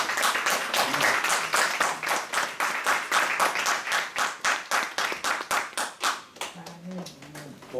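A church congregation claps in a fast, steady rhythm for about eight seconds, loud and close, in a dense run of sharp, evenly spaced claps that thins slightly near the end.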